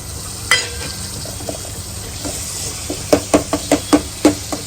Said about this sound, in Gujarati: એની ઉપર આપણે નાખશું ડુંગળી.